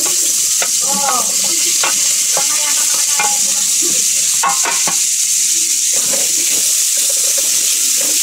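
Garlic, ginger, onion and tomato sauté in a hot pan with a steady sizzle, while a utensil scrapes and stirs in quick, irregular strokes close by.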